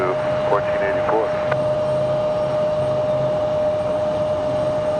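A JetBlue Airbus A220 jet idles near the runway before takeoff, a steady engine whine and broad roar heard from a distance, with a voice briefly speaking over it.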